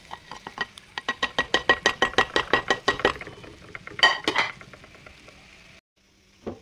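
Spice masala of coriander, chilli, turmeric, pepper and Kashmiri chilli powders frying for squid roast, stirred with a quick, steady run of metallic scrapes and clinks against the pan, then a short pause and one final scrape.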